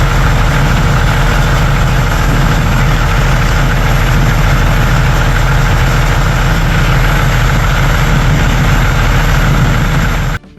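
An aircraft is buffeted by wind on an airport apron, with a loud, steady, low engine-like roar and broadband rushing noise that runs continuously and then cuts off abruptly at the end.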